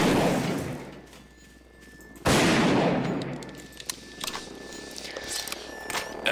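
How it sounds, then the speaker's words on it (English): Double-barrel shotgun in Garry's Mod fires one loud, abrupt blast with a long noisy tail, followed by scattered clicks and small impacts, and a voice talks briefly around it. "Double barrel shotgun."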